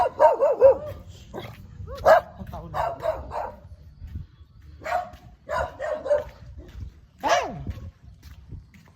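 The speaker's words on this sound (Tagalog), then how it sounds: "Meron ng aso." A dog barks repeatedly in short bursts on a morning in the Housing Aplaya area of Lingayen, Pangasinan, fairly close and loud, while people talk in between and around the barks.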